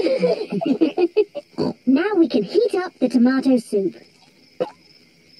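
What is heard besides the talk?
crickets chirping at night, cartoon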